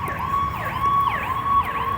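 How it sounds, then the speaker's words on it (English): An emergency vehicle siren wails in repeated rising and falling sweeps, steady and fairly loud from start to finish, with no talking. "the sirens start in the background"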